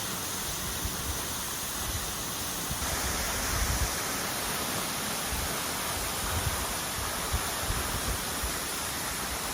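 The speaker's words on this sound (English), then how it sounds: "Waterfall." Patna Waterfall near Rishikesh, India, pours with a steady, full rushing hiss of falling water, constant and fairly close, heard alone without voices.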